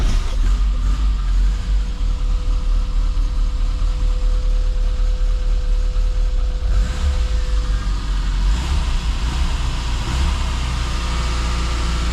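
A classic Mini Cooper engine runs at a steady idle after starting, a loud, continuous low rumble with a faint hum, holding even throughout with no voices.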